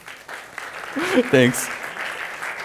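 Applause from an audience at a live IoT project award ceremony, a dense, steady patter lasting a few seconds while a voice speaks briefly over it.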